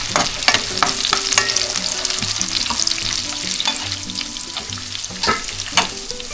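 Steady sizzling and crackling of onion frying with pork liver in a pan, with occasional stirring and scraping sounds, close and continuous.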